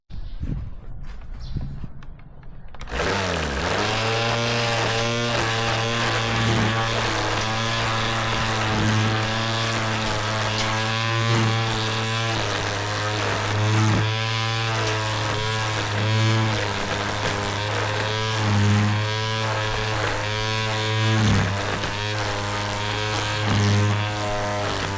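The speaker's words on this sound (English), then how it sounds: "Now it went from a weed trimmer to an edger." A string trimmer with its head turned sideways to work as an edger starts after a brief quiet moment, then holds a steady, loud whine. The pitch dips and surges slightly as the line cuts along the grass edge.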